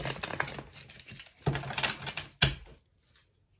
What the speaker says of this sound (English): And then I'm getting ready to shuffle.